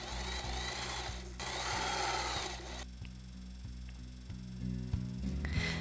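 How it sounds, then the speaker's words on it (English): A sewing machine runs steadily, top stitching all around a small doll shirt pocket, with a continuous motor hum and regular needle thumps through a fabric shirt sized for a 12-inch action figure. "sew top stitching all around the pocket"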